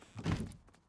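A door opens in the Rust video game with a single soft, low thunk. It is short and fairly quiet, with no talk.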